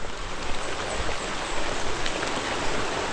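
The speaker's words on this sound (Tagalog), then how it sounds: "Inabot na kami ng ulan eh, Nonoy." Heavy rain pours down in a steady, dense hiss outdoors among trees, loud and continuous with scattered drops pattering on nearby surfaces and no voices.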